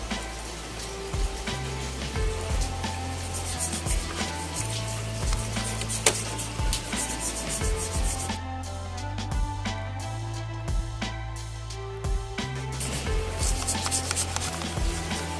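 Toothbrush scrubbing stains off a motorcycle carburetor, a steady close-up rasping rub that repeats in short strokes throughout.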